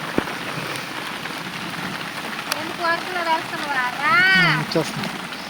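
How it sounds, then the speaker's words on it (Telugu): Steady rain pours down on garden trees at night in a dense, even hiss outdoors, while people talk over it now and then. "చెట్లలో వర్షం పడుతుంటే ఎట్లుంటుందంటే ఇట్లుంటుంది వర్షానికి"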